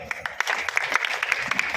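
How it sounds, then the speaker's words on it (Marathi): An audience claps at a traditional double-bar bhajan contest event, a short burst of close, fairly loud applause with crisp individual claps standing out. "जोरदार टाळ्या वाजवा"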